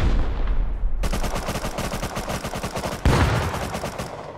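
Rapid automatic gunfire in the video game Rust, a steady stream of loud, closely spaced shots that breaks off briefly and then resumes with a heavier burst.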